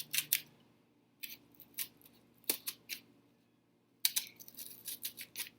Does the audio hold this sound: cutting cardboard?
yes